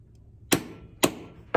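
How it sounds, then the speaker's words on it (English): A small hammer taps three times on a bench-mounted punch to make a hole, each a sharp, close metallic strike spaced about half a second apart over faint room noise. "Just gonna take my little hammer here,"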